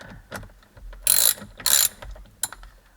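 A hand ratchet tightens a bolt on an Audi S3 steering wheel, giving three short, loud, close bursts of rapid clicking separated by brief pauses.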